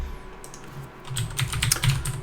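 Rapid typing on a computer keyboard, with clicking keystrokes that start sparse, then build into a steady, fairly close burst of tapping over the last half, with no voices.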